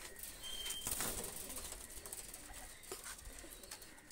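Quality Omani pigeons released by hand, a burst of wing flapping and soft rustling near the start, faint cooing and bird sounds continuing quietly afterward, with no talk.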